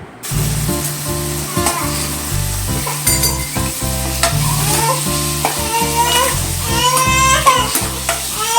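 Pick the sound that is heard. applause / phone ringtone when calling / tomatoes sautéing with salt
tomatoes sautéing with salt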